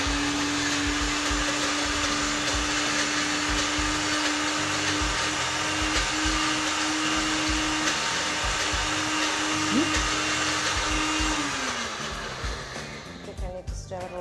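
Black bean brownie batter churning in a blender, a loud, steady whirring drone that runs for over ten seconds before the motor winds down near the end, with no voices over it.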